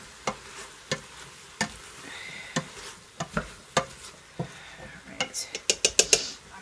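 A spoon stirs potatoes through beef and barley soup in a pot, giving a string of sharp, separate clinks and scrapes at an uneven pace that bunch into quick taps near the end, close and moderately quiet with no talking.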